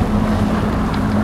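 Fishing boat engine idling on open water during a fishing competition, a steady low droning hum throughout, with wind buffeting the microphone.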